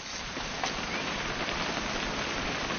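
Steady, dense rain hissing down on a surface, a constant wash of patter with no pauses and no voices.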